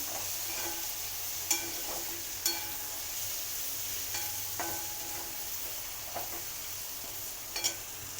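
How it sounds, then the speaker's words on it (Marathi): Grated coconut frying in a pan for chili pickle while being stirred, a steady soft sizzle with occasional sharp scrapes and clicks of the spoon against the pan, fairly close and with no talking. "आता दोन मिनटं असं फ्राय करून घ्यायचे आपण मिक्स करून"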